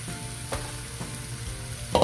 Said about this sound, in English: go ahead and put the meat in